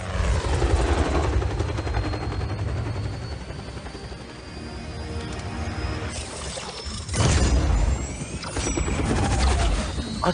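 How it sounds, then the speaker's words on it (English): A helicopter's rotor in Just Cause 4 roars loudly and steadily through the whole stretch, with heavy crashes and bursts of impact noise breaking in partway through. "They have a helicopter."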